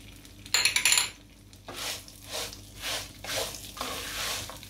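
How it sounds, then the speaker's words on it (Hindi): Sweet vermicelli being stirred with cardamom, crushed almonds, coconut and cashew nuts, a sharp metallic clatter followed by several slower scraping sweeps of a spoon in a pan, close by with no speech. "और अच्छी तरह इसको मिक्स कर लेंगे।"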